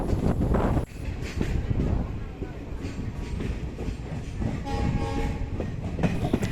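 A passenger train heading toward Tinsukia in Upper Assam rumbles along the rails with a constant low roar and rhythmic clatter, loud and close from inside the carriage, with some faint background voices.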